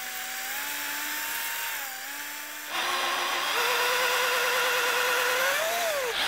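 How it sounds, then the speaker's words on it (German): A drill boring freehand through the wooden body of an electric guitar for the cable channels, a steady whine that dips briefly, then surges louder and higher as the bit bites, with no talk. "Die bohrt Uwe Schölch freihändig, auf die Gefahr hin, dass er sich verbohrt."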